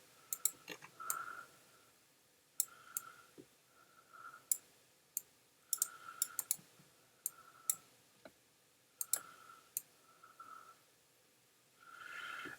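Sparse, faint mouse clicks and Command key presses at a computer while coloring comic book pages in a drawing program, irregular single and double clicks in a quiet room.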